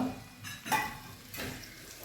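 A spoon stirs ambazhanga (hog plum) pickle with ground cardamom and cloves in a pan, giving two short scraping strokes over a low sizzle, close and fairly quiet, with no voices.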